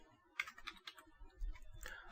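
Someone types a command on a computer keyboard, a quick uneven patter of soft clicks close to the mic with brief gaps between keystrokes and no speech over them.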